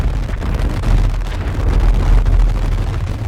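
Fireworks go off during a Diwali celebration in GTA 5: a continuous, dense crackle of booming bursts with low rumble, loud and unbroken for a few seconds without any talk.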